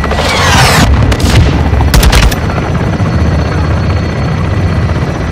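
A helicopter gunfire strike in Call of Duty Modern Warfare 2, loud rotor roar with sharp bursts of gunfire and booming impacts early on, then a steady rotor drone.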